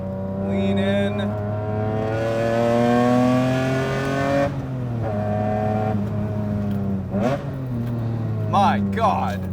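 BMW E30 with a swapped Euro S50 straight-six engine revs high, its tone climbing steadily then dropping and rising again, loud and close, with someone talking excitedly over the engine near the end.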